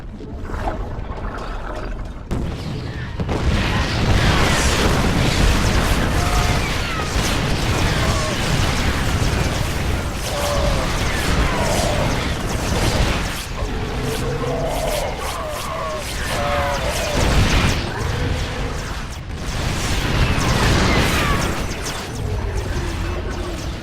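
Explosions from a facility being destroyed in StarCraft II, with loud bursts and rumbling blasts layered over continuous battle noise and game effects for the whole stretch.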